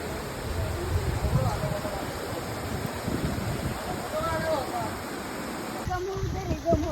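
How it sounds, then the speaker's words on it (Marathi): Gurgling stream water runs along a forest trail leading to Raireshwar temple, a soft, steady rushing wash with a voice talking over it and a sharp change partway through. "खळखळणारं पाणी बघा"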